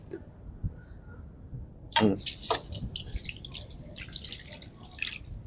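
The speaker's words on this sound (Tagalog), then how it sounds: "Tapos, siyempre, lalagyan natin ng tubig." Water splashes and pours into a cooking pot for a couple of seconds, then faint dripping and trickling follow against a low background hum.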